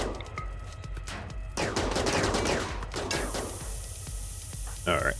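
Mini turrets firing at unstable power cells in RimWorld, bursts of rapid gunfire rattling in quick succession with a sharp detonation-like crack and mechanical clatter, fairly loud and continuous.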